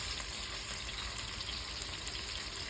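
Sausage simmering in a pan for sausage cavatappi gives off a steady, even sizzle and hiss with a faint watery bubbling underneath, continuous and close with no talking.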